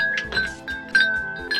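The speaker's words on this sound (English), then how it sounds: "And now it is time to add the ice cubes." Ice cubes clinking into a glass of cold tea, a few bright glassy chinks spaced out over a second and a half, close and fairly loud against a faint steady hum.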